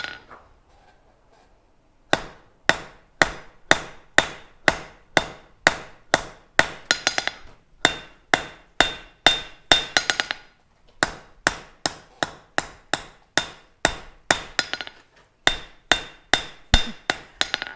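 Hot metal hammered on an anvil during blacksmith forging: a long series of sharp, ringing hammer blows in steady bursts with short pauses between them, close and loud, with no talking.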